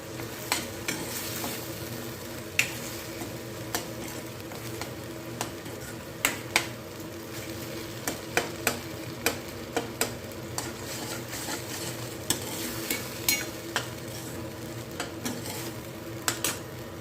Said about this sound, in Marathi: आता ह्या वेळेस आपण टाकायचं आहे दोन चमचे गूळ तोही एकत्र करून घ्यायचा आहे